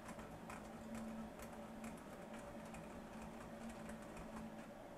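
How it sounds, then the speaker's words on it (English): A 2002 Ford Ranger car stereo's CD mechanism runs through its self-test, giving a steady mechanical whirring and clicking hum with faint repeated ticks, quiet and continuous throughout with no voices. "The CD should go through its little self-test."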